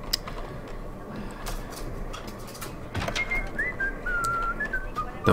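Whistled tune in the Max Payne game, a thin wavering melody rising out of a murky, noisy background in the second half, with scattered clicks and knocks earlier.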